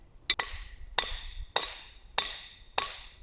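Hammer blows on a forged steel blade, drawing a bevel in a winter camp forge: five sharp, ringing metallic strikes at an even pace about 0.6 s apart, close and clear, each followed by a brief ring-out.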